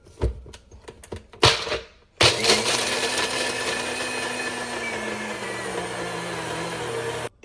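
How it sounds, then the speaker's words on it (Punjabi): Electric mixer grinder chopping cashews in a grinding jar: a few short rattling pulses, a brief pause, then a loud continuous whirring grind running steadily for several seconds before cutting off. "ਆਪਾਂ ਨਾਲ ਦੀ ਨਾਲ ਇਹਨੂੰ ਗ੍ਰਾਈਂਡ ਕਰ ਲੈਂਦੇ ਆ ਗ੍ਰਾਈਂਡਿੰਗ ਜਾਰ 'ਚ ਪਾ ਦਿੰਦੇ ਆ"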